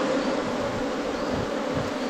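A dense, continuous hum of Apis honeybees swarming inside a hollow tree, loud and close, with no other sounds.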